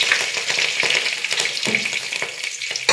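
Mustard seeds, urad dal and curry leaves sizzle and crackle in hot coconut oil, a loud, close, continuous frying hiss with scattered sharp pops.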